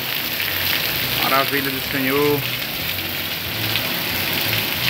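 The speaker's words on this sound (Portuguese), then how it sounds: "Muita chuva aqui em Acaraú, graças a Deus." Heavy rain pours down in Acaraú, in Brazil's Nordeste, as a loud, dense, steady hiss that fills the whole stretch, while someone speaks briefly over it.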